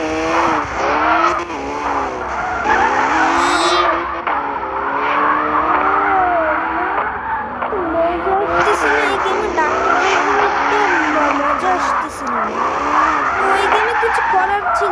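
Engines roar and tires squeal through skidding drifts in the CarX Drift Racing 2 video game, loud and continuous with shifting pitch throughout, with a voice talking over it at times.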